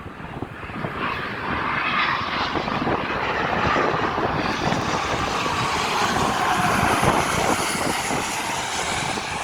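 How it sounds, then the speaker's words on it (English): A Gulfstream business jet flies past, a loud, steady broadband engine roar that holds throughout with a brightening whine, no talk over it. "I always forget the name of this plane. Yep, it's Gulfstream."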